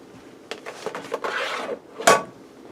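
Sliced kielbasa sausage stirred into a casserole in a Ninja Speedi, a spoon scraping and rubbing through the mixture for about a second, then one sharper knock against the pot, close and fairly loud with no talking.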